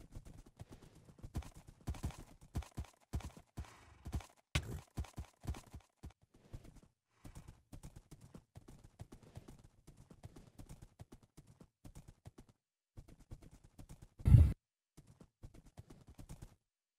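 Horses galloping in Minecraft on the CivMC server, rapid rhythmic clip-clop hoofbeats in bursts with short pauses and one louder thump near the end, fairly quiet and close.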